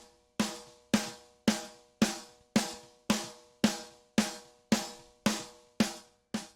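A snare drum sample blended with a raw snare recording, struck about eleven times at a steady rhythm, each hit sharp and bright with a decaying roomy tail, loud and alone with no talking.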